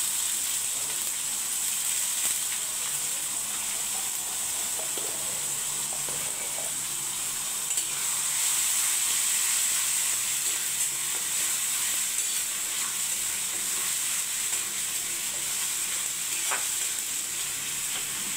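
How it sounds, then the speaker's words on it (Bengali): Ginger paste frying in hot oil in a pan, giving a steady, loud, broad sizzle that hisses continuously, with faint occasional utensil taps and no talking. "আদা বাটা দিয়ে দেবো।"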